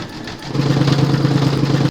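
An embroidery machine satin stitches around the edge of a coaster, making a steady mechanical hum with a rapid stitching rhythm that grows louder partway through and then stops abruptly.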